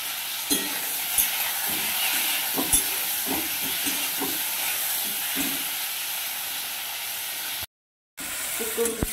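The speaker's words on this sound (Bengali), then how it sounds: "টমেটোটাকে পেস্ট বানাবো, তার আগে একটু তেলে আমি নেড়ে নেব" Steady hiss of tomato frying in oil with repeated scraping knocks of a utensil stirring in a pan, continuous and close, with a brief gap near the end.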